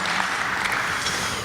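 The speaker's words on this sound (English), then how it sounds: "let's give her a round of applause" A luncheon audience at a chamber of commerce event claps in a dense, even burst of applause filling the room, brief and moderately loud.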